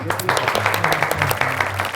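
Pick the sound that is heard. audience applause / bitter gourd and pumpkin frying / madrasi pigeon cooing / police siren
audience applause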